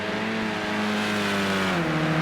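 A touring race car in Project Cars 2 on Xbox, at the Sugo circuit, sweeps past with a loud, steady engine roar whose pitch drops near the end as it goes by.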